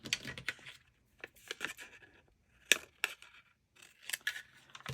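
Scissors snip through paper in short, quiet bursts of cutting, spaced irregularly with brief pauses, close and faint, during a paper crafting project.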